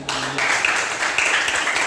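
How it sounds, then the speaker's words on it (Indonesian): Students in a classroom clapping their hands together, a dense, steady wash of many claps lasting about two seconds, close and fairly loud, with no one speaking. "Iya, tepuk tangan"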